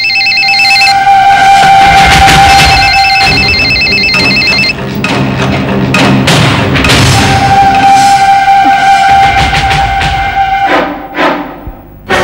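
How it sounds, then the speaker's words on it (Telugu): A telephone rings loudly and insistently in a domestic drama scene, repeated electronic bell tones in bursts with brief gaps and a few thuds, no speech. "ఫోన్ రింగ్ అవుతుంటే చూస్తూ కూర్చున్నావు ఏంటి"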